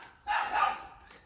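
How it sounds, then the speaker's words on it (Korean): A single dog bark rings out over a quiet background, moderately distant and fairly faint. "개가 짖고 있습니다."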